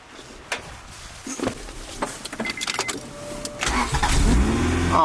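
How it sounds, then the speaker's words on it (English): Honda Integra engine cold-starting: door and key handling noises, then a short crank and the engine catching near the end, settling into a steady close idle. "That started right up, no issue."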